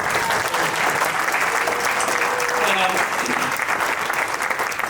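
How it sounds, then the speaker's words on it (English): A room full of people at an entrepreneur event gives sustained applause, thick steady clapping from many hands throughout, with faint voices underneath. "Let's give her a big round of applause."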